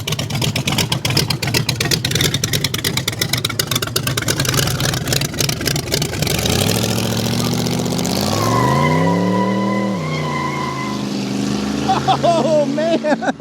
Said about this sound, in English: It's a random CTSV rolling in. That sounds good.